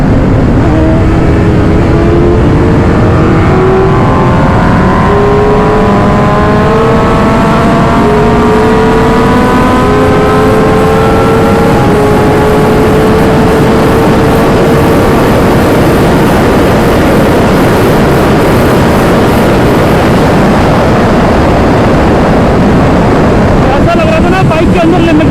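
A 2025 Kawasaki ZX-6R motorcycle runs flat out on a highway at top speed, its engine note climbing steadily in pitch under a loud, constant roar of wind rushing past.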